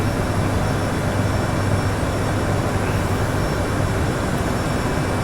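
Steady, loud broadband roar of an Endeavor Air airliner's engines with throttles held in climb while accelerating toward climb speed, a continuous even drone without a break and no voices over it.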